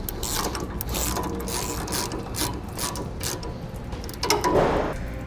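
A ratchet clicks steadily while tightening U-bolts on RV steering stabilizer brackets, a close, continuous run of rapid pawl ticks with a slightly louder burst near the end.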